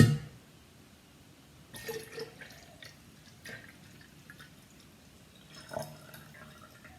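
Cooled room-temperature syrup is poured from a pot into alcohol, a faint trickling pour with soft splashes and drips, starting with a louder knock.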